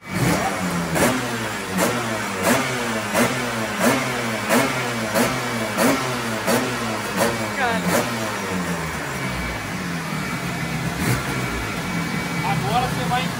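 A Yamaha RD 350 two-stroke motorcycle revs hard on a dynamometer in a steady series of rhythmic rev pulses, loud and close, before settling into a more even drone toward the end.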